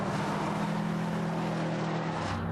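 A Mitsubishi Evolution VIII or Subaru Impreza WRX STI rally car sliding at about 100 mph, its engine a steady loud roar with a droning hum throughout, close and continuous without talk.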